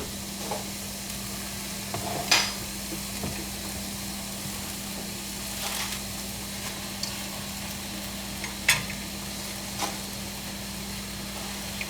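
Spinach sizzling and being stirred in a pan alongside scrambled tofu, a steady close fry with a few sharp scrapes and clacks of the utensil against the pan, no talking.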